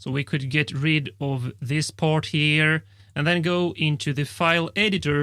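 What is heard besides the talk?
None of the usual background noises is heard.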